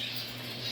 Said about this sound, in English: That's all you can hear is the finches.